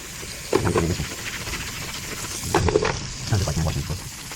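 A car engine air filter being washed by hand in hot water, with sloshing, squelching and splashing in two or three bursts close to the microphone, separated by quieter dripping gaps.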